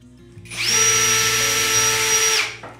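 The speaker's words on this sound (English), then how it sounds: "we're gonna pre-drill holes a couple of centimeters from the end where you're gonna screw it into the frame" A power drill pre-drills holes in timber slats for a sofa bed frame, one close, loud burst of about two seconds with a steady whining motor that spins up and winds down.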